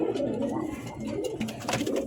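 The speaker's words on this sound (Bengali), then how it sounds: "দেখেন কি সুন্দর নটটা ডাকতেছে" A male pigeon coos in soft, repeated low murmurs, fairly close, with a steady background hum.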